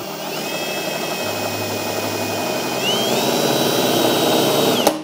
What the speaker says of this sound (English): we want to drill a hole in the center of this bucket